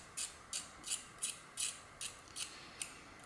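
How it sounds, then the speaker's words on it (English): A metal magazine catch on a firearm magazine is deburred with rhythmic, raspy filing strokes, about eight short, close scrapes in an even rhythm with no talking. "Just really a deburring on the mag catch there."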